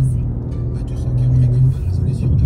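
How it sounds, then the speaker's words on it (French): Car engine revving with its exhaust valves open, climbing Mont Ventoux in a convoy: a loud, steady low engine drone with a rising rev near the middle, continuous throughout, with faint voices underneath. "La voiture est un peu bruyante, avec les valves ouvertes."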